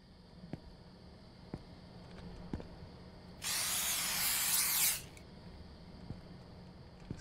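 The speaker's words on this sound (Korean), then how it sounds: "스프레이 하나로 잡을 수 있다고?" A burst of insect spray hisses steadily for about a second and a half, aimed at a large bug in a Korean convenience-store night-shift horror game, standing loud and clear against a quiet ambient hum with faint ticks.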